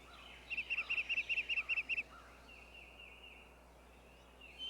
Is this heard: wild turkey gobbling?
yes